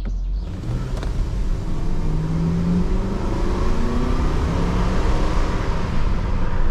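A Lexus LS 400 V8 engine while driving along a tree-lined road, heard from inside the cabin as a steady low rumble with a gradual rise in revs as the car accelerates, exhaust barely audible.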